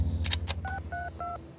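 Telephone keypad tones from a 1988 movie: several quick beeps, then a run of distinct two-tone dial tones, each at its own pitch, sounding clear over a low background hum.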